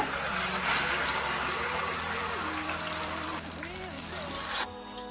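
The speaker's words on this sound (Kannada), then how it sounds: "ಜಾರ್ ತೊಳ್ಕೊಂಡು ಒಂದು ಅರ್ಧ ಲೋಟ ನೀರಷ್ಟು ಹಾಕೊಂತ ಇದೀನಿ" Half a glass of water is poured into a rinsed mixer jar while pineapple gojju is being cooked, making a continuous close gushing splash that ends with a brief swirl, with a voice talking underneath.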